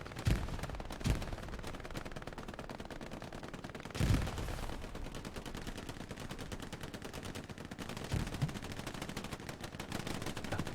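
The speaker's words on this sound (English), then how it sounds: "Machine gunners shoot." Machine gun fire in the video game Hell Let Loose, with steady rapid bursts rattling continuously through the clip and a few heavier gunshot cracks standing out, fairly quiet overall, with no speech.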